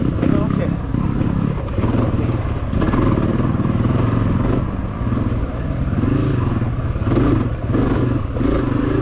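A Honda CRF250F dirt bike races in a hare scramble, its engine droning loud and close with rising and falling revs as the rider talks over it throughout.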